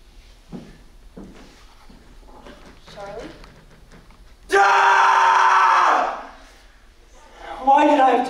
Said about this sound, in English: Why did you scream?